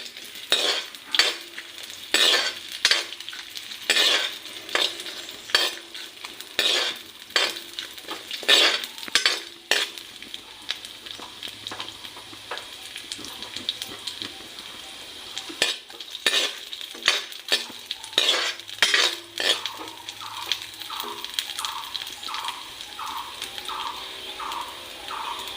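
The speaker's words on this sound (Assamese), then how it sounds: "এইখিনি অলপ টাইম ভাজিম।" Raisins and peanuts fry in a pan as a utensil scrapes and stirs them in repeated strokes over a soft sizzle, with a faint bird in the background and no talk.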